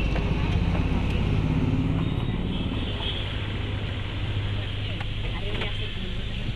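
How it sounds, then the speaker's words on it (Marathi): A family car pulls away on a picnic outing, its engine a continuous low rumble with road noise holding steady and easing slightly as it moves off. "गाईज आमची पहिली गाडी चाललेली आहे"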